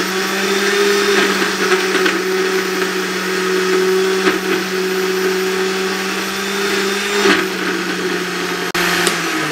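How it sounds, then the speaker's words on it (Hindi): A juicer grinder machine grinds kulfi ingredients in a home kitchen with a loud, steady motor whine that stays even throughout before cutting off near the end. "ग्राइंड कर ले इसको"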